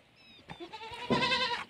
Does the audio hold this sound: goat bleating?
yes